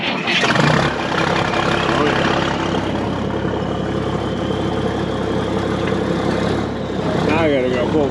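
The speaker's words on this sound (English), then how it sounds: "So we'll crawl up on the tractor, fire it up again, and see what we got." An IH 1206 Wheatland tractor, just repaired after a head gasket failure, cranks and fires, then settles into a loud, steady diesel run that stays close and continuous, with a brief surge near the end.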